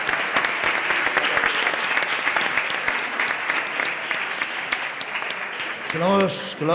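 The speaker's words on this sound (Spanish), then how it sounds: "Yo creo que un aplauso para él, ¿os sumáis?" A crowd applauds steadily with dense clapping throughout at a panel debate on Spanish professional women's football, and near the end a voice rises briefly over the fading applause.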